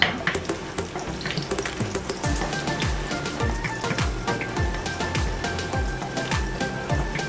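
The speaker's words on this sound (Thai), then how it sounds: "หอมเจียวกระเทียมให้หอมก่อนนะคะทุกคน" Shallots and garlic sizzle and crackle steadily in hot oil in a pan, with scraping and stirring sounds repeating throughout as they fry.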